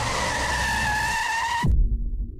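A car brakes hard with a sustained tire squeal that ends in an abrupt low skid thump, loud and close, with no talk over it.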